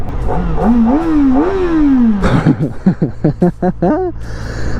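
Kawasaki Ninja ZX-4R small-displacement inline-four motorcycle revving loudly and close during a wheelie, a rising, wavering engine pitch followed by a burst of sharp throttle blips.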